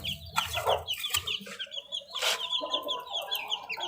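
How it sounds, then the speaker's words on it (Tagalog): A batch of newly hatched baby chicks peeps in rapid, high, overlapping chirps, close and continuous, with no voices. "At ayan guys yung ating sisiw."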